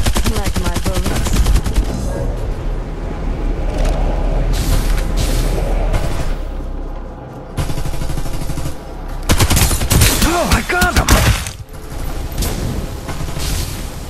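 Rapid automatic gunfire and explosions in the battle royale shooter Farlight 84, with dense bursts of shots and booms that are loud and nearly continuous, joined by game voice lines.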